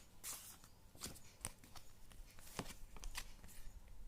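Tarot cards are shuffled and handled close by in a quiet room, giving soft crisp riffles and several sharper slaps and flicks spread across the few seconds.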